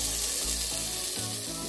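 Hot oil hits glowing charcoal set inside chicken malai boti to smoke it, giving a steady close sizzle and crackle with low rumbling underneath, no voices.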